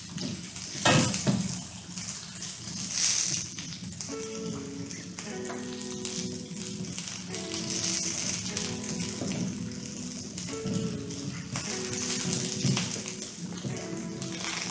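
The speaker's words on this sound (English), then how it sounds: "Let me get these bok choys washed real quick." Tap water runs steadily over bok choy held beneath it, giving a continuous close splashing wash with shifting patter as the leaves move through the stream, no talking.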